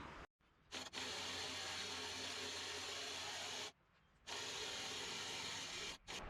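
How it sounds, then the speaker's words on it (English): The conveyor of a Cord King firewood processor is cranked upward, a quiet continuous mechanical grinding and rubbing that stops briefly twice, close by with no talking. "we're going to crank the conveyor all the way up until it's almost vertical"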